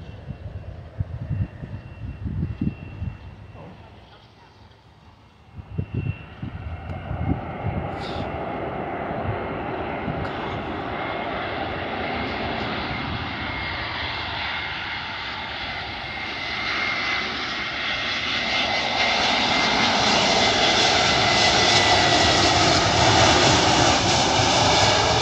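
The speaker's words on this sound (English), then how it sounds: "Another airplane." A Spirit Airlines Airbus A320neo lands at Fort Lauderdale Hollywood International, its engine roar building from a faint distant rumble into a loud, broad, sustained sweep as it passes.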